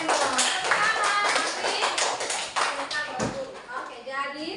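A classroom of children claps together at the teacher's call, with bursts of hand claps sounding under and between voices of the teacher and kids.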